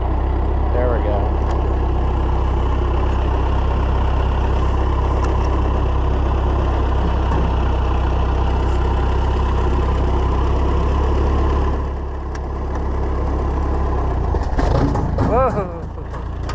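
A Ferguson TO30 tractor engine idles steadily after a key start, a loud, close, continuous low rumble with a brief dip near twelve seconds and a voice speaking near the end.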